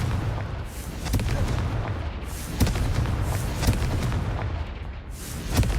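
Confringo spell blasts in Hogwarts Legacy crack out as a series of sharp booming bursts at uneven intervals over a steady game background, with faint talk.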